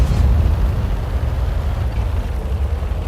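Artillery round fired in a tank video game, heard as a loud, continuous low-frequency rumble and roar that fills the whole stretch without a sharp separate blast.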